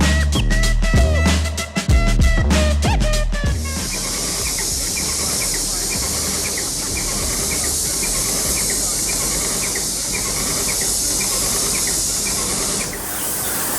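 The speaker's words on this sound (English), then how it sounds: "this Wagner paint sprayer is really earning its keep" A Wagner paint sprayer spraying paint during a remodel of a hundred-year-old white house gives off a steady, even hiss that runs for about ten seconds, preceded by a brief jumble of other sounds at the start.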